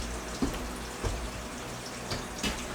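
Water is poured down an open sewer pipe during a mobile home bathroom plumbing redo, giving a steady rushing, gurgling wash with a few louder splashes and knocks and no talking.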